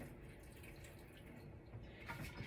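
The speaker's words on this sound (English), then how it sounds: "Let me quick dump out some of this water." Water pours and splashes softly as it is dumped out of a container, faint and close, with a few drips and a gurgle near the end.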